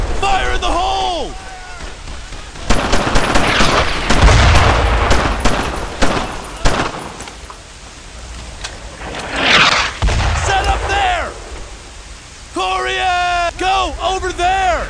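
Gunfire and explosions in the World War II shooter Brothers in Arms on Hill 30, France, 1944: repeated sharp shots and heavy booms across the clip, with shouted voices between bursts.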